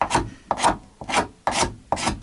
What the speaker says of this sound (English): when you have a really sharp scraper, you can get a nicer finish almost than sanding